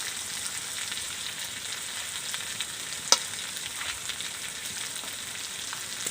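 Steady close sizzle of ginger-cumin paste and spices frying in oil for a Bengali chicken jhol curry, with soft stirring scrapes and one sharp utensil tap midway.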